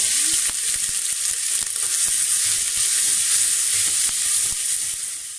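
Onion frying in olive or vegetable oil in a pot, a steady dense sizzle and hiss running throughout with faint stirring knocks, fairly close and constant.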